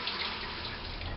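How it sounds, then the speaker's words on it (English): Water from a shower falls into a bucket in a steady, close, even splashing stream with no pauses, lasting only a moment. "it's going to collect all that water that I'm dropping right now"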